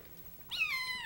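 A bottle-fed kitten gives one short, high, rising-then-falling meow, close and clear over a quiet background, with no voices during the cry.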